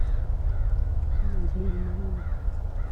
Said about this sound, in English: those crows are going crazy